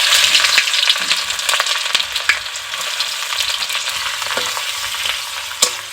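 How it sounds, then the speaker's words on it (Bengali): Chopped onion frying in hot oil with cinnamon and cloves, a dense, close, continuous sizzle with occasional sharp crackles and spits. "পেঁয়াজটাকে হালকা ব্রাউন রং করে একটু ভেজে নেব।"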